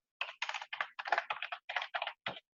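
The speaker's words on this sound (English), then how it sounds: "So I'm just going to type in" Fingers typing on a computer keyboard in short clustered bursts of rapid clicks separated by brief pauses, close and clear with no talking.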